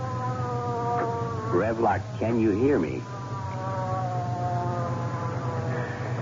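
An ambulance siren in a 1953 Gang Busters radio crime drama wails in rising and falling sweeps over a sustained droning tone. A voice speaks over the siren as it passes.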